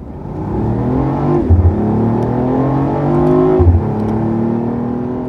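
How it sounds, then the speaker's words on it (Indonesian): A 2017 BMW i8 accelerating, heard from inside the cabin: a steady droning engine note rises in pitch through two gear changes, each shift marked by a brief low thump, loud and continuous with no talking. "Ini sekarang adalah suara yang akan Anda dengar ketika berakselerasi dengan i8 dari dalam kabin."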